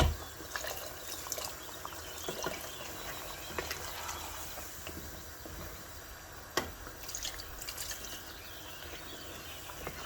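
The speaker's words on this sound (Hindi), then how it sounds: "अब इसमें हम पानी डालेंगे ताकि इसमें आलू गल जाए।" Soft trickling and pouring water into a cooking pot of potatoes, with scattered drips and light clinks, fairly quiet and steady with no voices.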